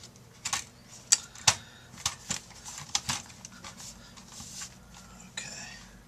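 Several sharp plastic clicks and snaps sound as the top plate of a Dell XPS M1530 laptop is pressed down into place, close and fairly quiet, with small handling rustles between the clicks.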